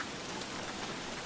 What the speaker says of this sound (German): Warum regnet es so krass?